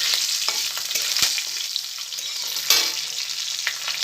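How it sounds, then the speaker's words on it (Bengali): Dried red chillies and bay leaves sizzle in hot oil in a pan, a steady close frying crackle with occasional stirring scrapes, no voices. "এবার দেব ওর মধ্যে শুকনো লঙ্কা আর দেব তেজপাতা তো এটা একটু লালচে করে আমি ভেজে নেবো"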